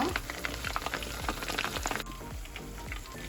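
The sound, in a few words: pointed gourd (parwal) frying in a pan on medium heat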